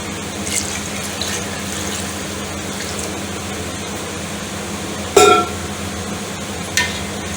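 Water is poured from a glass into a cooking pot for chicken pulao, a steady low liquid flow in a kitchen with a few brief clinks.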